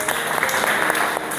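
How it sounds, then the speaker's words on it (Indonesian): Classroom of students clapping together, a dense, steady burst of applause filling the room for its whole short length. "Tepuk tangan semuanya."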